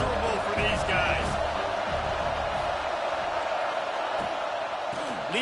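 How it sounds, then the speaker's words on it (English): Dense, steady stadium crowd roar fills a college football game between FSU and USC, a loud continuous wash of voices with occasional sharper shouts and thumps, with a commentator speaking over it. "This crowd going to try to make life miserable for these guys"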